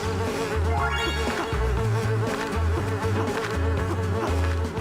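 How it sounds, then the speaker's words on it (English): Buzzing bee sound effect from the Ninjabread Man video game, a loud, continuous droning hum that wavers in pitch and sits over steady game music. "That's the bee sound effect."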